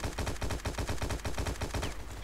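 Rapid automatic gunfire in the free-to-play shooter War Inc Battlezone, a loud, dense stream of evenly spaced shots firing without pause across the whole stretch, with no voices.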